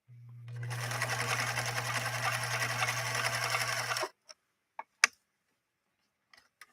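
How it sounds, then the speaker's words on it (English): A Viking 21E sewing machine zigzag stitching through saddle grade leather, a loud steady whirring hum for about four seconds, then stopping, followed by a few sharp mechanical clicks and taps. "So here goes a zigzag down this saddle grade leather."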